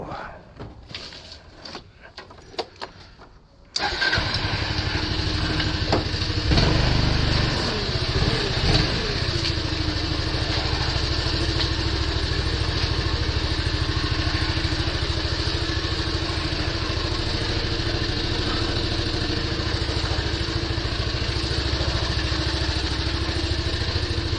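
A small 150cc motorbike engine runs steadily and loudly after a burst of handling noise, holding a constant idle-like drone close by for most of the stretch with little variation.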